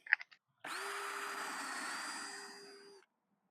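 A power drill fitted with a depth stop collar bores into wood, a steady whining run of about two and a half seconds after a few short taps, close and alone.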